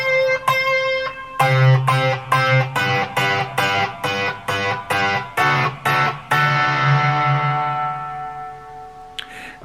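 Electric guitar plays a passage of double stops, struck in a steady run of about a dozen evenly spaced, sustained two-note hits before a longer ringing chord fades out; close and clear, no talking.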